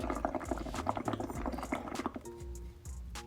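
Bubbles blown through a straw into paint gurgle and bubble steadily at close range, a busy liquid burble that thins out toward the end.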